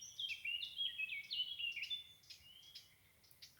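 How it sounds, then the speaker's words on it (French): Birdsong for a meditation recording: quiet, bright chirps and whistled trills flutter in quick succession, fading toward the end over a soft, calm background. "Vous vous laissez bercer par le chant des oiseaux"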